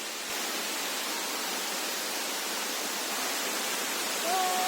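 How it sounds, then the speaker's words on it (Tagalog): A waterfall rushing in a steady, dense roar of broadband water noise, close and loud throughout, with a faint brief whistle-like tone near the end. "Finally, waterfalls!"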